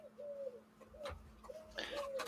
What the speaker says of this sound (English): There's a dove outside my window